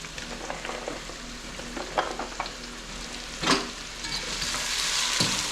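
Carrots frying in a hot pan for a coconut curry shrimp pasta, a steady close sizzle with stirring scrapes and clatters, swelling louder toward the end, no voices.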